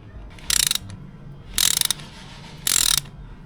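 Three short ratcheting bursts ring out as a wrench turns the oil drain bolt on a Suzuki GSX 150 motorcycle, each a quick run of clicks separated by quiet pauses, close and clear.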